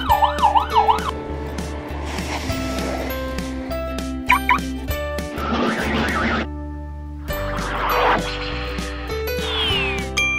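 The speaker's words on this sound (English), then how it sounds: "It's Chase driving his blue police car." A toy blue police car from a Paw Patrol set plays an electronic siren, its wailing tone cycling rapidly near the start and then giving way to busy toy clatter and other electronic jingles.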